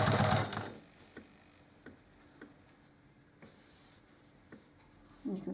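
Sewing machine stitching quilt-as-you-go rows, a burst of close mechanical whirring at the start, then sparse quiet ticks and a brief whir again at the end.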